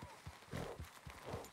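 Hoofbeats of a Tennessee Walker horse in the Red Dead Redemption 2 video game, a soft, rhythmic clip-clop of steady walking steps heard faintly up close.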